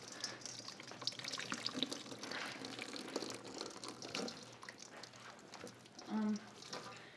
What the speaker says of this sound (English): And drain out all of the liquid. The grease.